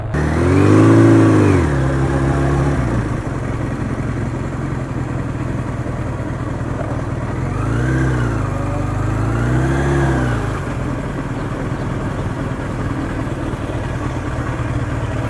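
A 41-year-old Suzuki GS1100E motorcycle, original owner and 76,000 miles, rumbles loudly throughout a ride, with two rising revs as the engine accelerates, first near the start and again midway, over steady wind and road noise.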